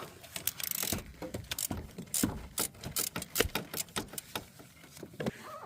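An air ratchet working on an alternator bolt of a 2008 Toyota Sienna, giving rapid bursts of clattering mechanical ratcheting with short pauses between them, close and fairly loud, with no talking.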